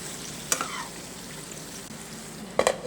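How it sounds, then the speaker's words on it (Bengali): Brinjal and spices fry together on a low flame in a soft, steady sizzle, broken by two sharp clattering stirs of a spoon against the pan, one early and one near the end; no speech. "এবার আমি বেগুন আর মশলা একসাথে মিশিয়ে হালকা জালে এটাকে আমি খুব ভালো করে"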